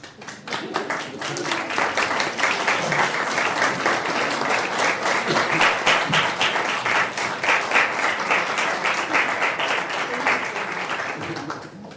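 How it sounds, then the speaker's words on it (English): Sustained applause from a meeting audience for standing parents, steady and fairly loud, clapping continuing for several seconds before fading at the end. "can the parents stand up so we can applaud you?"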